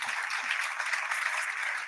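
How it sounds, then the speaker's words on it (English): Audience applause for a panel at an aviation gender summit in Durban, a steady wash of clapping that holds at an even level throughout, with no voices over it. "Please give them a round of applause."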